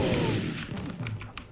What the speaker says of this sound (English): Dude, this minigun's awesome!